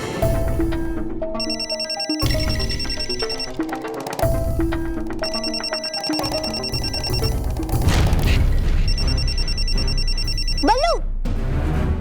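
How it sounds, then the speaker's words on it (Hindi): A mobile phone ringtone plays a repeating electronic melody in loud bursts, looping several times with short pauses between phrases. "वही मोबाइल बज जाता"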